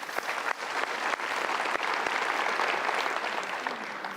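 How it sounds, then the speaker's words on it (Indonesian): Audience applause fills a seminar hall, dense steady clapping from a large crowd that holds at an even level throughout without pause. "kita berikan tepuk tangan dulu"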